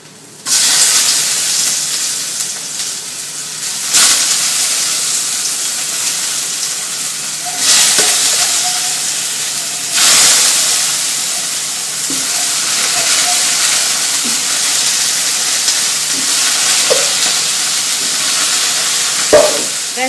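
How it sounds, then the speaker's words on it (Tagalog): Blanched, already cooked potato slices fry and brown in a hot pan, giving a steady hissing sizzle with occasional soft scrapes and stirring clicks, close and fairly loud without speech. "that is our potato slice that is already cooked, but I'm still going to brown it"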